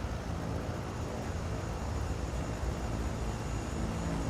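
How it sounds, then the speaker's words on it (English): A jet turbine engine in a flight simulator game, a faint, steady broadband roar that hums continuously with no voices. "Ooh, that sounds like a jet actually, or a turbine engine."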